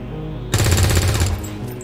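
Automatic gunfire from XCOM 2: War of the Chosen erupts suddenly after a quiet start, a loud rapid burst of rattling shots lasting under a second before fading into a lingering tail.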